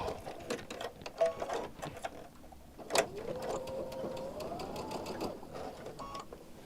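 A sewing machine pieces quilt fabric with a quarter-inch guide foot, running in short bursts of rapid stitching with clicks and pauses between runs, and a faint voice in the background.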